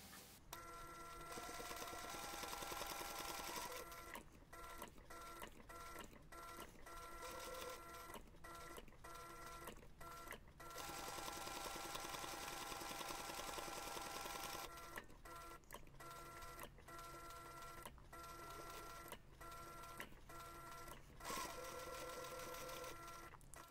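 Loud, close sewing machine stitching backpack fabric with long continuous runs broken by several short pauses and quick restarts, humming and clattering steadily with no talk.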